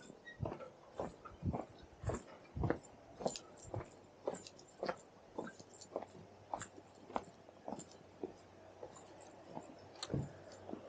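A dog makes a series of short, sharp sounds at a fairly regular rhythm, repeated many times, moderately close over a faint background.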